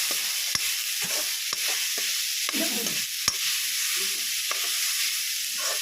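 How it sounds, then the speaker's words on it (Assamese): Grated coconut frying in a dry wok, a steady loud sizzle with a few sharp scraping clicks from stirring, with no voices. "তুলি পেলাই এতিয়া মই নাৰিকলখিনি ইয়াত ভাজিম"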